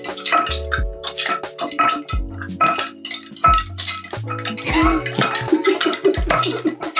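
A spoon clinks against a glass while stirring a smoked marmalade whiskey sour cocktail, giving repeated close metallic chinks and scrapes with ice-like rattles in an irregular rhythm.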